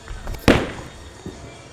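A burn bowling ball thrown dead straight on the right side crashes into the pins with one loud, sharp impact, followed by a brief rattle and a faint late pin drop about a second later.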